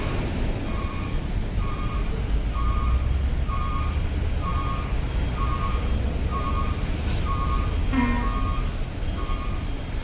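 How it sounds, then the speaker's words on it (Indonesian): Trucks at Bakauheni ferry port at night, where a reversing alarm beeps in an even, repeating rhythm over a constant rumble of engines and a busy port hum. "setiap waktu di pelabuhan Bakauheni ini untuk kendaraan truk mendominasi"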